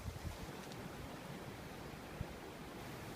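Steady wind on an island beach, a broad, rushing roar close to the microphone with slight gusty swells and no voices.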